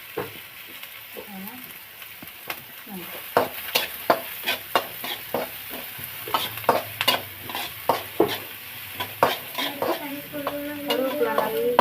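Onions and curry leaves fry in a pan with a steady sizzle, punctuated by frequent sharp scrapes and clinks of a spoon stirring against the metal throughout, with no talking.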